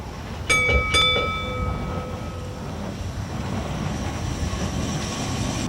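A seaside tram starts off with a couple of sharp metallic clanks and a ringing bell, then rolls on with a steady low rumble.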